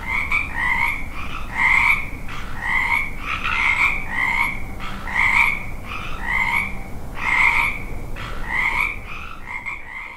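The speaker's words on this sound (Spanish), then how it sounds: "ese sonido es el croar de estos anfibios" Frogs croak loudly and close by in a steady rhythmic chorus of regular, evenly spaced calls that repeats over a soft constant background, with no talk.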